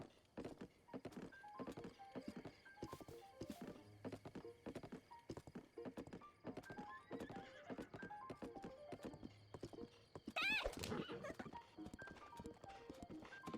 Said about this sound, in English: More wild horses here.